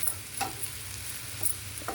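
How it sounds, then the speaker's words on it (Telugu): Tender tamarind leaves and curry leaves fry in a little oil, a soft low sizzle with a few light scrapes and stirring taps, faint and close. "ఇది చింత చిగురు, కరివేపాకు వేగుతుంది."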